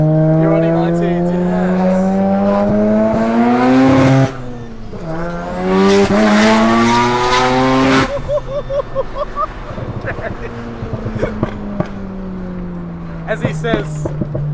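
A Mazda FD RX-7 rotary engine is driven hard on a Sydney touge mountain road, revving up through gears in loud rising sweeps with sharp shifts, then easing off as people talk over the fading engine.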